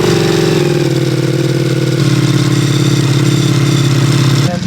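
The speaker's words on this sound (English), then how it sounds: "And that exhaust is definitely louder than a Pikes Peak one." A Ducati Multistrada V4 with a dry clutch and a full exhaust system revs while standing. It gives a loud, close, continuous deep engine roar that shifts pitch slightly, then cuts off abruptly near the end.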